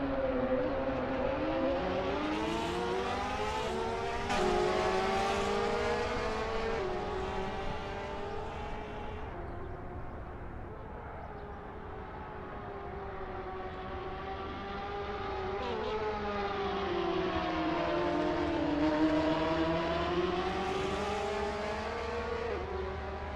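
Race cars in a sim racing game battle for position with loud, continuous engine tones that rise and fall through gear changes and corners, several engines overlapping close by without talk.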